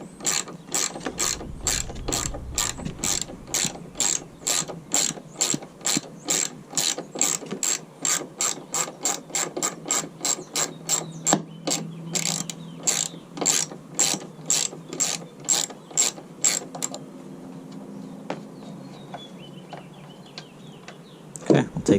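A ratchet clicks in rapid, even bursts while loosening the lower bolt on a 2018 Ford F150 tailgate during a tailgate assist install, close and crisp. The clicking stops briefly near the end, then a few final clicks follow.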